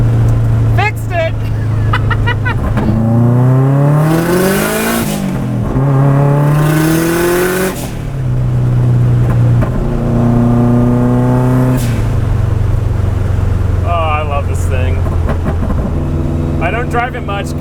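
An all-wheel-drive Mazda Miata, garage-built and running 10 pounds of boost, revs hard several times, its loud engine note climbing and dropping in repeated sweeps, with people talking over it.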